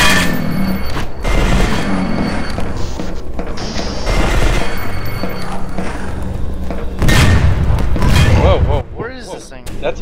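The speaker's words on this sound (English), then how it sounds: "That's a missile turret" Missile turret firing in the E.Y.E. Divine Cybermancy shooter, loud repeated thuds and booming blasts with mechanical clatter, a heavier burst of explosions near the end, under voices talking throughout.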